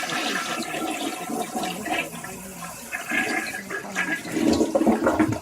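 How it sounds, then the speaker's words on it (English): A toilet flushes in a courtroom setting, a rushing, gurgling swirl of water that runs steadily and swells louder toward the end. "Did I just hear a toilet flushing?"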